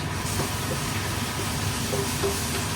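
Chopped onions frying in a pan, a steady broad sizzle and hiss with occasional small crackles and pops, close and continuous throughout, no talking.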